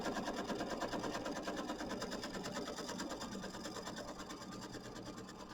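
A sewing machine runs a continuous rapid stitching hum while tacking down a Kimberbell mini quilt block, steady and close, slowly easing slightly in loudness, with no voices.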